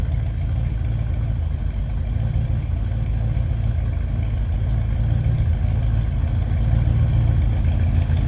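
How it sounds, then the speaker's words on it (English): A 1972 Oldsmobile Cutlass 442 convertible idling steadily up close, its deep, throaty exhaust rumbling at a constant low pitch for the whole stretch with no talking. "Nice deep throaty exhaust."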